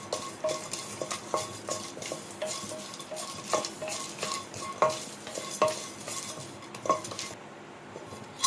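Whole cardamom pods dry-roasted in a pan for garam masala, stirred with a utensil that gives repeated light scraping clicks and rattles at an irregular rhythm, close and clear with no voices.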